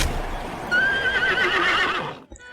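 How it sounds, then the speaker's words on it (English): A horse neighs once, a loud shrill whinny lasting under two seconds that breaks off abruptly, with no speech over it. "I'm going to wild shape into a warhorse and start neighing"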